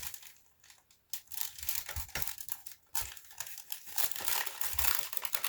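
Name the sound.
masking tape being pulled and applied over tin foil art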